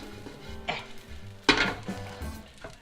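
Food for a Filipino breakfast mixed in a pan, with a few scraping, clattering strokes of a utensil over a faint sizzle, close and fairly loud, and nobody speaking.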